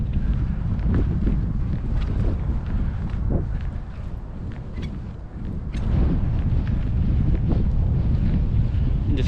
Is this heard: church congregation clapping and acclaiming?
no